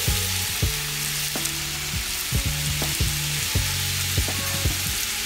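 Rice stirred through caramelized onions in a hot pan for Cajun jambalaya, a steady close sizzle with repeated scraping strokes of the spoon, no talk.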